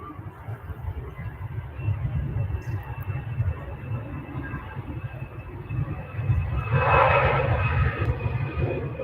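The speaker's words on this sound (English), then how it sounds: "He's probably going to go for a sharp takeoff by the sounds of it." A steady airplane engine roar at Manchester Airport that swells louder near the end as the aircraft powers up for takeoff, heard alone without voices.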